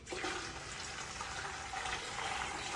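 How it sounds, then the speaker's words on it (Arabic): A steady rush of water poured into a cooking pot over fried onions, cumin and coriander with chicken stock, a continuous close splashing flow lasting the whole moment. "نضيف ماء."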